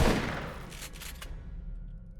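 A single firework blast in the video game Aliens: Dark Descent hits hard at the start, then decays into a crackling rumble, with no talking.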